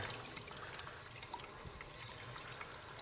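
Tap water trickles into a bottle being filled outdoors on a bike trip, a faint, steady splashing dribble with some water spilling past the opening, and no voices.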